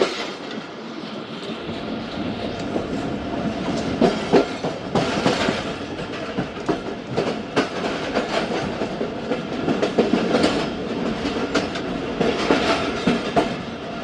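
The 130Dn Thal Express runs along the track on a mountain route of tunnels and rivers, a loud, steady rolling rumble with clattering wheel beats and occasional sharper knocks throughout.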